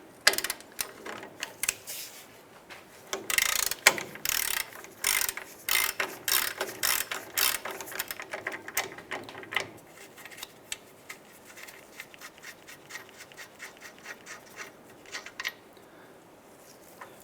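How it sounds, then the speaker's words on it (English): A ratchet wrench loosening a front shock bolt on a 1992-1996 Ford F-150, rapid loud clicking pawl bursts in repeated runs, close by, fading to softer quicker ratcheting toward the end, with no speech. "And we're going to take off that bolt."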